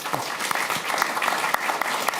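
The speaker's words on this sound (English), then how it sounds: "Give him a warm applause, please." An audience at a talk on the energy transition applauds warmly, a dense patter of many hands clapping steadily throughout.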